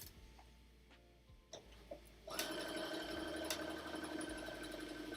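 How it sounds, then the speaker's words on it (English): A sewing machine stitches a buttonhole in the same fabric with no fusing, starting with a few faint clicks and thumps before the motor kicks in at about two seconds into a steady, fast, whirring stitch that runs to the end. "So I'm going to do exactly the same buttonhole."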